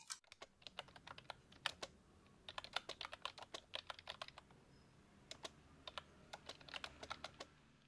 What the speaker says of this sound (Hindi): यहाँ पे जितनी भी सर्विसेज हैं वो टाइप कर लेंगे